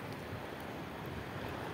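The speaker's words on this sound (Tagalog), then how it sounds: "Malalaki pa naman yung alon mga master." Large sea waves while fishing from a boat at sea, a dense rushing wash of surf mixed with wind buffeting the microphone, loud and steady throughout.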